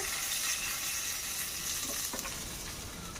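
Rohu fish crackle and sizzle in hot oil, a dense, close frying hiss with occasional pops throughout.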